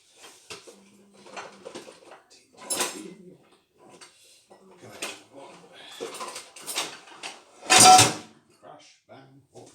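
Kitchen clatter while another chopping board is fetched: scattered knocks, scrapes and clunks of boards, dishes and utensils, ending in one loud crash, close and uneven.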